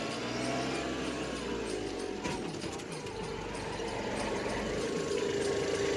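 OJA 2130 tractor engine idling on a farm, a steady low mechanical rumble with faint rattling, moderately quiet and continuous.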